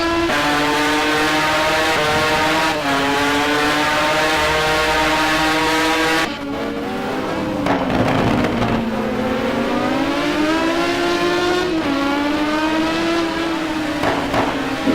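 GT1 race cars in a sim racing game at the Nurburgring, engines droning and revving continuously as a close group, pitch rising and falling through gear changes, loud and near with no talk.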